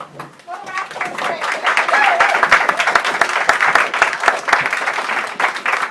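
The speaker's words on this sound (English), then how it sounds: "a round of applause for his trousers and a really good set" Audience applause at an open-mic spoken-word night in the Cumberland Arms pub in Newcastle, a steady patter of many hands clapping for about six seconds, fairly close, with some voices mixed in.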